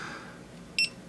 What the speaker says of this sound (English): It beeps when it stops recording.